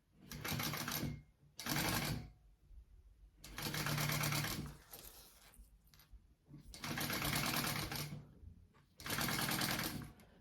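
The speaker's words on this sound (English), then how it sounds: "And then I'm going to baste this piece on first." A sewing machine bastes a zipper panel in four or five quick bursts of rapid stitching, with short pauses between them.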